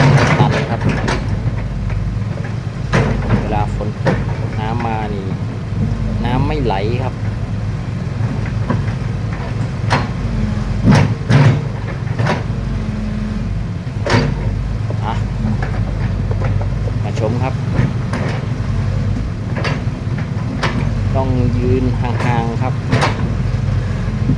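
Kobelco SK140-8 SuperX excavator with a 93-horsepower engine digging out a drainage ditch, a steady diesel drone with repeated clanks and scraping knocks from the bucket and the soil, close and loud throughout.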